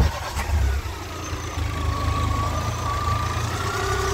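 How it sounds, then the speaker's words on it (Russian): Volkswagen Golf 2 engine, freshly rebuilt and being run in, turning over and catching, then settling into a steady low idle with a faint whine, heard close by. "Запусти движок, послушаем,"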